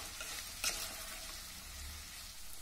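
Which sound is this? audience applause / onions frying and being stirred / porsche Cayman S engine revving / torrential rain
onions frying and being stirred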